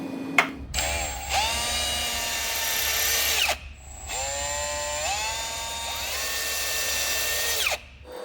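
A power drill bores and taps bracket positions on a big lathe, running loud and close in two long sustained bursts with a brief pause between, the motor pitch rising at each start and dropping as it winds down.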